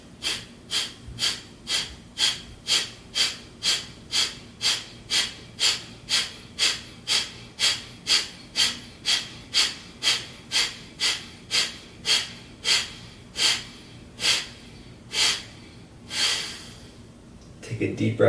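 Rapid, forceful exhalations through the nose in a hatha yoga breathing exercise, about thirty sharp puffs in a steady rhythm, close and distinct, loosening toward the end.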